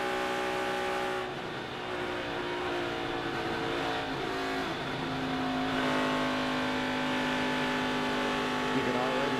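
An ARCA stock race car's engine at Michigan, with steam venting from the overflow, drones steadily and close with a strong harmonic tone for the whole stretch, holding at a constant pitch without fading.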